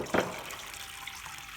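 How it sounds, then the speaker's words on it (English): Water from boiled noodles pours off into a sink through a strainer, a soft splash up front settling into a steady quiet trickle. "I'm going to strain the noodles"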